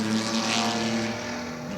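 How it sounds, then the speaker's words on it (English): A Vanwall racing car runs on the Goodwood track at a 1957 British Grand Prix celebration, its engine a steady loud drone passing close by, briefly swelling then easing. "Very nice to see the Vanwall out on track."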